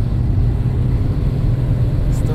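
A BMW E34 engine pulls hard through second and third gear, a steady low, loud drone throughout with little change over the short stretch, heard from inside the car.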